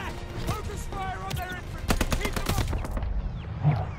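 Bursts of rapid machine gun fire in a Call of Duty World War II desert battle at El Alamein, dense repeated shots with scattered explosive booms, loud and close over a steady battle din.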